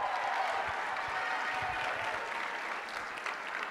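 An audience at a school fine arts week show applauds and cheers in a steady, dense wash of clapping that holds at a moderate level throughout, with no talk over it.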